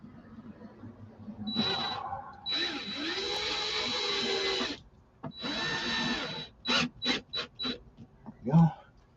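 A power drill driving screws in during a car amplifier install, several close bursts of whirring: two longer runs followed by a quick series of short stop-start pulses, with quiet gaps between.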